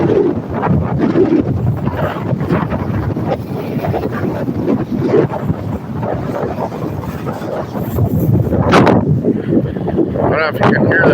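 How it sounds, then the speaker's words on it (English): Steady wind buffeting the microphone in a continuous low rumble, with water and boat noise underneath. "I don't know if you can hear that wind blowing"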